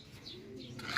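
A single soft coo from a racing pigeon at a loft, low and rounded, close by, with faint chirps in the background.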